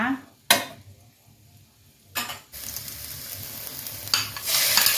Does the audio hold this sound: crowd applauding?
no